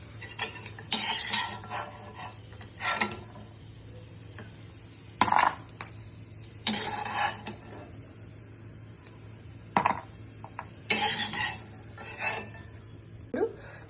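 Fried almonds scooped from a pan onto a plate with the stove off, spoon scraping and clinking against metal in scattered short bursts, close by, with quiet gaps between them.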